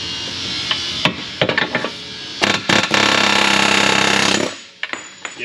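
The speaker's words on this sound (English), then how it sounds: "I'm gonna air hammer this from the front side and knock it out" An air hammer knocks a frozen rear differential bushing out of an Infiniti G37, starting with short sharp bursts, then a loud sustained rattling run before it stops, close up with no talking.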